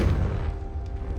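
A Confringo fire-blast spell exploding in Hogwarts Legacy, a single deep, muffled boom that rolls into a low rumbling tail.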